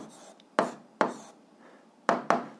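A math answer is written down in four sharp, close strokes spaced by short pauses, each a quick scratchy tap against a quiet background.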